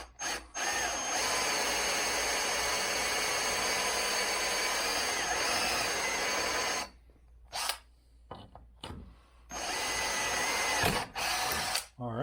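A Hart electric drill bores into metal with 30-weight motor oil as cutting fluid, a loud steady whine for about seven seconds, then stopping and restarting in short bursts before another sustained run near the end.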